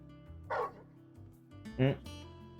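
A dog in the video game Final Fantasy 16 gives two short barks about a second apart, close and clear over a quiet background.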